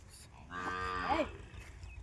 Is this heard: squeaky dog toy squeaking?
no